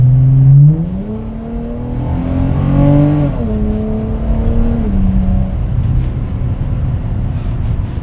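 A 2018 Dodge Challenger SXT Plus holding a gear at speed, its exhaust droning and rising in pitch, then settling into a steady close rumble with faint crackly burbles near the end.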